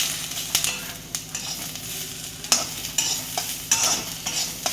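Masala of browned onion and roasted coconut sautéing and being stirred in a pan for a spicy bitter gourd dish, with a steady close sizzle broken by repeated scraping strokes of the spatula.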